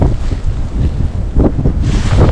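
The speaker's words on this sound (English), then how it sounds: "The wind is this strong, it can cave in those hub shelters" Strong wind roars across a frozen lake during extreme cold, blowing snow and buffeting the microphone in a loud, continuous rush with gusts swelling near the end.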